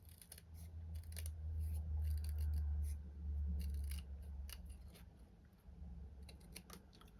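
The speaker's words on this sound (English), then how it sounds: "I'm just literally cutting as close as I can to the words, keeping it straight." Scissors cutting paper close to printed words for penguin place cards, a run of small crisp snips at close range, with no talking.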